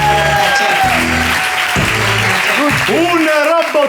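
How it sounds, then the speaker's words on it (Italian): Applause from a cabaret audience bursts out beneath loud music and a host's voice, dense clapping that continues across the whole moment. "Signore e signori, un grosso applauso a Chris!"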